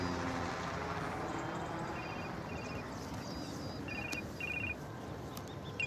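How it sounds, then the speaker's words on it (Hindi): Phone ringing in a Hindi drama scene, heard as a repeated electronic ring pattern in short bursts over steady background noise, with no talking. "पलक का फोन उठाऊं?"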